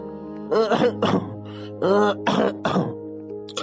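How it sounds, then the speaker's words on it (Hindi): A cartoon man coughs hard in a series of about five harsh, voiced bursts, close and loud, with short pauses between them while he suffers from a cold. "तुम तो बहुत खांस रहे हो"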